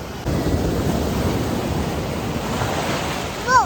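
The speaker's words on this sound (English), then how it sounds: "Yeah, I see it. It's big waves." Big ocean waves at Pier Shoals Beach crash and roar in a continuous loud wash of surf, with a brief child's squeal near the end.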